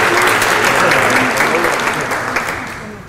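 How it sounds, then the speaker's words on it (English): An audience at the opening of an event applauds together, a dense and steady burst of clapping that slowly fades over a few seconds. "Let's give a big applause to everyone."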